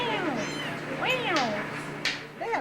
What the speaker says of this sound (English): a litter of kittens was found